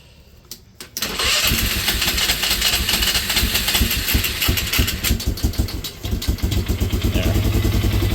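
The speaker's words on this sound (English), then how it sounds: "It starts a pull start, no problem. I wanted to hear it turn over." A 2004 Polaris Sportsman 400 ATV engine catches on a pull start with the choke on, after a brief pull, then runs loud and close with a rough, rapid, slightly uneven idle that holds steady.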